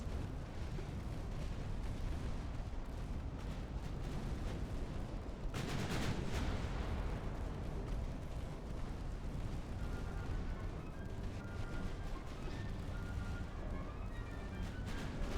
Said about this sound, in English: I heard a torpedo hit over here.